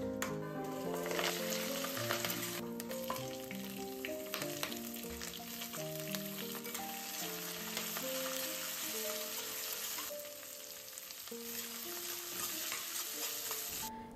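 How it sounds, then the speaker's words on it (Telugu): Green chillies and onions frying in oil in a home kitchen, a steady sizzle with occasional stirring scrapes, close and fairly quiet, while tonal music plays throughout. "పచ్చిమిర్చి అండ్ ఆనియన్స్ వేసేసుకోవాలి. అది మంచిగా సాఫ్ట్ అయ్యేదాకా ఫ్రై చేసుకోవాలన్నమాట."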